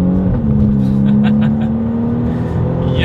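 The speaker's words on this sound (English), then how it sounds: "Let's do a quick little acceleration in this thing." A 2020 BMW M235i Gran Coupe in sport mode pulls away from a standstill and accelerates uphill, its engine note loud, steady and close throughout, a sustained rising drone with no talk.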